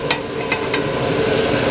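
Fresh garlic cloves sizzle in a pan with portobello mushrooms, a close, steady frying hiss with a few brief scraping stirs near the start.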